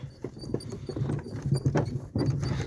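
Hooves of several draft horses clop along at a walking pace on a hard surface, a steady uneven patter, fairly close.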